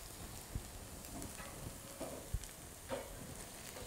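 Lamb keema mince sizzles quietly in a pan with softened onions, a faint steady frying hiss with a few soft stirring scrapes and clicks, no talking.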